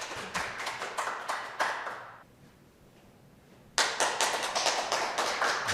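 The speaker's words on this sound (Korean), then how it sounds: "뜨거운 박수로 환영해 주십시오." Clapping from an audience at a Korean-language lecture forum, welcoming a speaker: a fast, rhythmic burst of many claps fades out, falls quiet for about a second and a half, then starts again just as loud.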